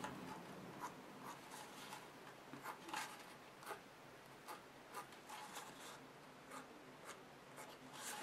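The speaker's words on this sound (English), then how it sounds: "I'm just using a Sharpie pen, and I'm just going to lightly draw those on" Soft, scratchy strokes of a Sharpie pen lightly drawing whiskers on an Easter treat basket craft, a series of quiet, close marker squeaks and rubs spaced irregularly over a faint background hiss.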